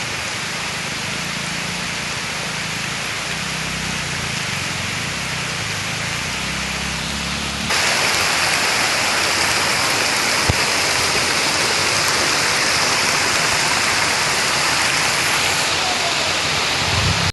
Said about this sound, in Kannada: ಪಶ್ಚಿಮ ಘಟ್ಟ ಪ್ರದೇಶದಲ್ಲಿ ನಿರಂತರವಾಗಿ ಸುರಿಯುತ್ತಿರುವ ಮಳೆಯೇ ನದಿಗಳ ನೀರಿನ ಮಟ್ಟ ಏರಿಕೆಗೆ ಪ್ರಮುಖ ಕಾರಣವಾಗಿದೆ